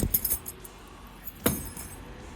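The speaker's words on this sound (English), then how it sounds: "take the old set of keys out while still pushing this in" A set of old metal keys is pulled from a Kwikset smart lock, giving a few quick close jingles at the start and one more sharp clink partway through, otherwise quiet.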